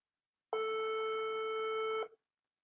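A single telephone ring tone on an outgoing call, one steady electronic burst of about a second and a half, clean and isolated with silence before and after.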